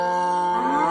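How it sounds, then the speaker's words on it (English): Cow moo sound effect from a stop-motion animation app's sound library, a single short, loud, clean bovine moo with rich harmonics, rising slightly in pitch toward the end. "There's a cow,"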